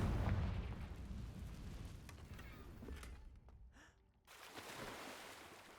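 A Confringo fire spell explodes in Hogwarts Legacy, a loud, rumbling burst that opens the clip and rolls on with crackling debris before dropping briefly and swelling again.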